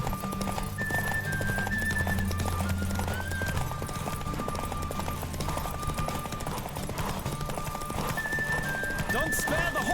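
Hooves clip-clop in a fast, steady gallop in The Witcher 3, with a horse's neigh rising over the running and music beneath; voices speak over the ride.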